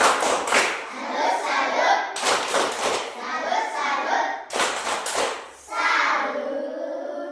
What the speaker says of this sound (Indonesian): Kasih dulu tepuk salut untuk kelompok 1.